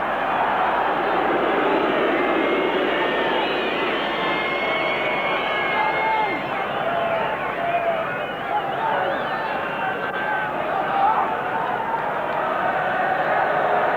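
A 50,000-strong football crowd at a 1990 World Cup qualifier between Ireland and Spain keeps up a dense, steady roar throughout, broad and continuous with no breaks, carrying a hint of chanting within the wash of noise.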